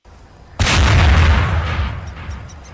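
A dynamite explosion effect from an animation outtake bursts in suddenly after a quiet start, a loud booming blast with a broad rumbling tail that fades slowly over two seconds.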